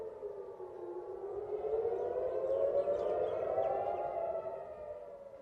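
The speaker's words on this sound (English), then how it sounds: "Air raid sirens were activated across dozens of locations in northern Israel" Air raid siren wailing in northern Israel, a single sustained rising and falling tone heard at a distance, steady and fairly loud with no voices over it.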